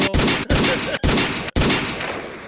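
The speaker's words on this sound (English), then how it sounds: "You need some gunshots." Four loud, booming gunshots fired in quick succession about half a second apart, each followed by a ringing rumble that fades slowly.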